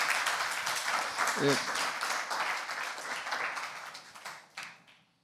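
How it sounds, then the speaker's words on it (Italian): A small group of young people applauds after a business talk about closing a contract, with moderate, steady clapping for several seconds and a brief voice partway through, before it thins out and stops. "Applauso, grazie ragazzi."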